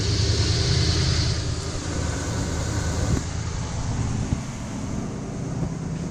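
A 1978 Ford E150 van engine idles at a steady low rumble, heard alongside a broad wind-like hiss outdoors, with no talking.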